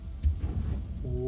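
An Incendio fire spell cast in Hogwarts Legacy erupts as a low, rumbling whoosh with a brief burst, then a crackling roar that fades, followed by a short tonal chime at the end.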